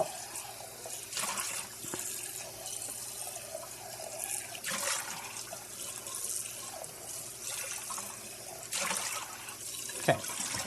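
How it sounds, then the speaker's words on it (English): A cast iron pan that held rice is rinsed under a running kitchen tap: a steady stream of water splashes and gurgles in the sink, with a few louder splashy surges and clinks. "I'm actually going to rinse this out."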